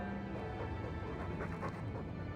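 A dog pants softly in Dragon Age 2, quick faint breaths and small whimpering sounds over a constant low background hum.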